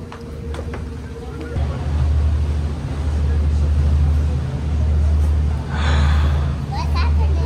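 A tour boat engine drones low and steady beneath nearby voices on a river in Paris, with a brief swell of splashing or rushing noise partway through.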